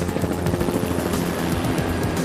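A police helicopter flies overhead with a loud, steady rotor thump and engine drone that fills the clip without a break, with no voices.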